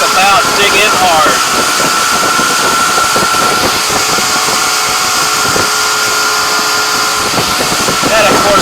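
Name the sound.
Sea Pro center console boat engine accelerating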